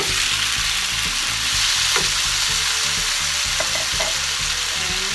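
Garlic browning in a frying pan with tomatoes going in, a dense, steady sizzle with light scraping and clicking of utensils, close and loud, no speech.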